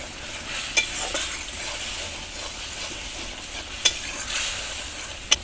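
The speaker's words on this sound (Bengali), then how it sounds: "মশলাটা কষানো হওয়ার মধ্যে ভালো করে নাড়ে সারে" Spice masala stirred and frying in a pan for a Bengali curry with taro and pangas fish: a steady, loud sizzle throughout, with a few sharp clicks of the spoon against the pan.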